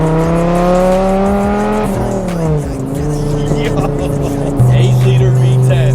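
A Dodge Viper GTS with an 8-liter V10 accelerates hard, its loud, close engine note climbing through the revs, dipping at a gear change, then surging again; a voice exclaims over the roar.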